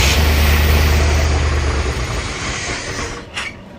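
A 1984 Corvette engine cranks during a fuel system test, a loud steady mechanical churn that holds for about three seconds before tapering off, ending with a brief sharp noise.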